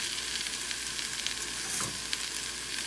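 Food sizzles steadily in an overheated stainless steel pan with a copper bottom, a dense, even crackle that stays close and continuous throughout with no talking.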